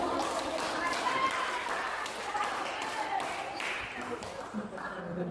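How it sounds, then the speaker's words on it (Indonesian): A classroom group claps together after a teacher's prompt, a busy ragged patter of hands at moderate distance that runs through the whole moment, with some background voices mixed in. "Tepuk tangan."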